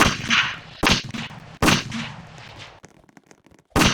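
Gunfire in a Roblox video game: several sharp, loud gunshot bursts with short echoing tails, a quieter stretch of faint clicks, then another shot, with no talking.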